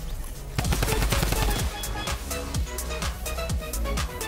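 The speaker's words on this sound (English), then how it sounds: "Minigun for the win!" A minigun in the video game Fortnite fires rapid sustained bursts, dense continuous mechanical gunfire with several short pauses, loud and close with no speech.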